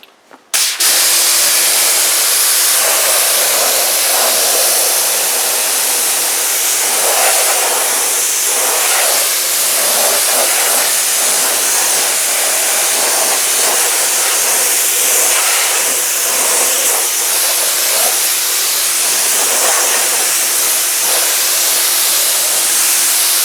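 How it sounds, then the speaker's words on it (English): A pressure washer sprays a car's tire and wheel with a loud, continuous hiss that stays even and close for over twenty seconds after a brief start. "I'm going to get the pressure washer and watch how this works."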